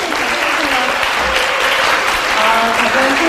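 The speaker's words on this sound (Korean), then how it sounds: "가장 큰 박수를 감사합니다" Audience applause at a talk-show style technology event, a dense burst of many hands clapping steadily for about three seconds, loud and close.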